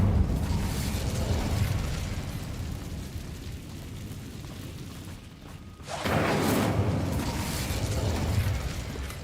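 An Incendio fire spell blast in Hogwarts Legacy, a wizarding video game: a steady roaring rush of flame and combat noise, with a fresh loud burst striking around six seconds and carrying on to the end.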